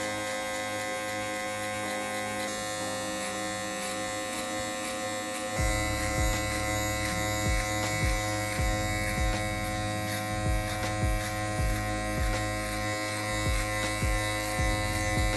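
Electric hair clippers fitted with a number 1 guard cut hair, a steady close buzz that grows louder and denser about halfway through as the blades bite into the hair.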